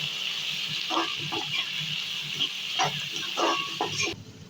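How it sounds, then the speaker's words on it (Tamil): A pot of dried fish and lima bean curry gravy bubbles and hisses steadily, with irregular popping blips as thick liquid boils, close up, before the sound cuts off near the end. "இங்கே பாருங்கள் நல்லா குழம்பு கொதிக்க ஆரம்பிச்சிருக்கு"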